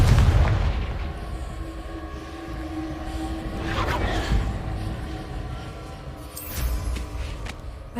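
A deep boom from the Confringo fire spell exploding in the video game Hogwarts Legacy, a heavy low blast at the start followed by rumbling tail, game music and a few lighter impacts.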